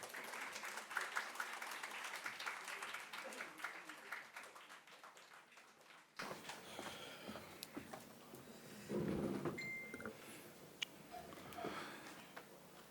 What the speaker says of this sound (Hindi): प्रोफेसर जसीम मोहम्मद साहब, ताली बजा दी ताकि जल्दी आ जाएंगे वो।